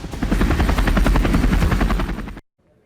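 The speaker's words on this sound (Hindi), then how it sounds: "बेलारूस में स्काई ट्रक नाम के इस अनमैन्ड हेलीकॉप्टर का फ्लाइट ट्रायल किया गया है।" Sky Truck unmanned helicopter with a Rolls-Royce engine on a flight trial in Belarus, a loud, steady rotor chop and engine whine that cuts off abruptly near the end.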